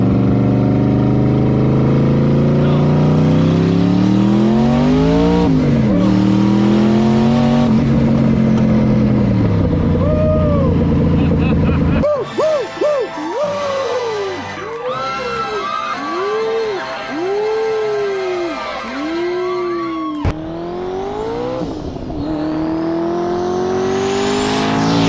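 A fast car, nicknamed Klaus, engine revving up through rising gear pulls, then a sequence of quick throttle blips and shifts, loud and close, ending in a sharp cut and a final surge.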